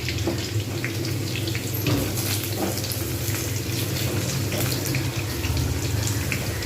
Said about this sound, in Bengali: আর একটু ভাজবো একটু লাল করে ভাজবো তারপর আমি এগুলোকে তুলে নেব